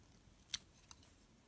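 Two quick, faint snips of small scissors trimming fluffy marabou fibres at a fly-tying bench, close up and otherwise quiet.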